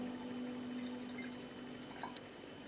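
Homemade hydrosol is poured into a small glass bottle sanitized with surgical spirit, giving a soft, steady trickle of liquid with a faint drip near the end, heard close and quiet over a low hum.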